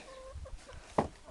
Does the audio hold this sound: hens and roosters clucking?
yes